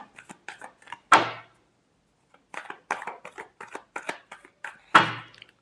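Tarot cards being shuffled by hand in a quiet room, giving two bursts of riffling flutter with soft slaps and taps of the deck in between, close and fairly quiet, with no talking.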